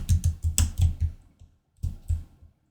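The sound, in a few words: typing text on a computer keyboard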